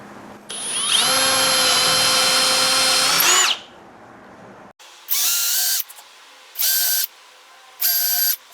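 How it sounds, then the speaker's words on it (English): A power drill whines loudly for a few seconds as it bores into a wooden chair seat, then spins down; after a pause, three short bursts of drilling follow in a steady rhythm. "I laid out 4 points where I want to drill."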